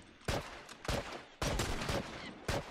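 Automatic weapons fire in The Last of Us multiplayer: four sharp, loud bursts of rapid shots at irregular intervals, close and prominent.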